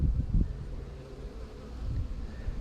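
Honeybees hum in a low, continuous drone close by at their hive, with a few louder buzzes passing near at the start and end.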